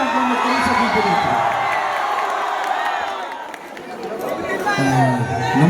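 A large outdoor crowd at a movie promotion event in Balasore, Odisha cheers, whoops and claps continuously, with dense chatter and shouting throughout and a swell of louder cheering near the end.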